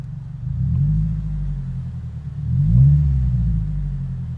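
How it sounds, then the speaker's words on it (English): A Subaru WRX engine rumbles low and close, with two deep revs of the exhaust rising and falling, the second one stronger. "let's see how this sounds with this exhaust"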